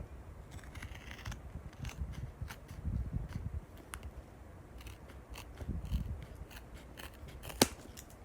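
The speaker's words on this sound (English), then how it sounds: "I also usually try to trim the edges once they're together so it's the same length." Scissors trim the edges of a duct tape wallet, with a series of close, crisp snips and crunchy cuts in uneven rhythm against quiet surroundings, one sharp click near the end.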